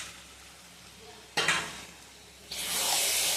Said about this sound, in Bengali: আমি এরপর মাটনটা দিয়ে দিচ্ছি।